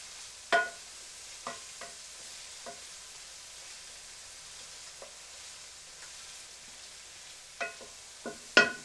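Vegetables for a rosa sauce softening in a pan, with a utensil stirring them now and then: faint, scattered scrapes and clacks over a low, steady sizzle, and a few louder knocks near the end.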